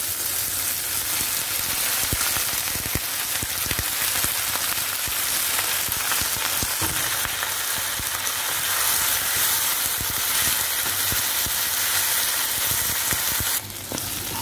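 Okra and brinjal frying in a pan, a dense continuous sizzle like steady rain, crackling close and loud for the whole stretch, with occasional stirring clicks and no talking.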